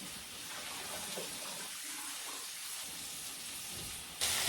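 Tap water runs steadily while fresh spinach is rinsed for a one-pan honey garlic chicken dish, a close, even hiss that carries on throughout, with a brief louder surge at the very end.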